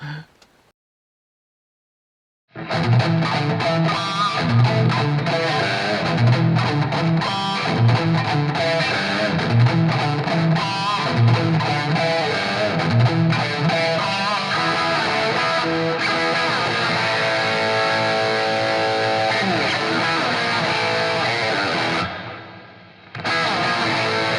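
Electric guitar with a brown sound, heavy washed-out reverb dialed in too much and some distortion, loud and continuous after a brief silence, ending with a short gap and trailing tail.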